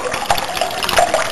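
Water gushes hard and fast in a loud, close, churning rush with uneven surges and spatters, and there is no talking over it.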